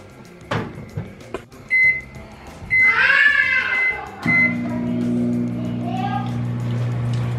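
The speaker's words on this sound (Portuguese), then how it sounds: "E vai dar uma estouradinha ali no micro-ondas, mas, gente, faz parte." An egg cooking in a running microwave oven pops sharply a few times over the oven's steady hum, while a person talks nearby.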